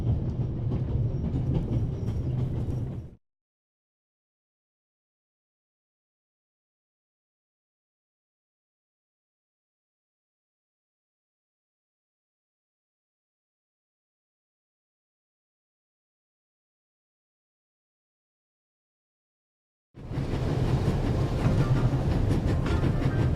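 A moving train in the video game The Raven Remastered rumbles with a steady rolling drone. The sound cuts to long silence, then the same rumble returns.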